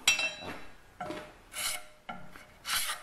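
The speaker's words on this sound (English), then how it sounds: "you're going to just turn it while you scrape off a little more" Rasping strokes scrape a spring-steel spud smooth as it is turned, four distinct passes in a slow, even rhythm, close and clear with no talking.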